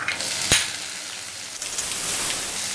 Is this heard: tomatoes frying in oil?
yes